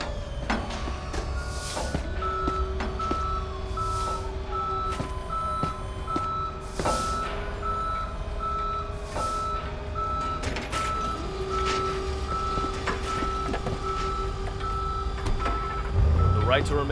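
A tow truck's reversing beeps in the Police Simulator: Patrol Officers video game, steady evenly spaced tones repeating through the clip over a continuous engine and street background, with occasional clunks.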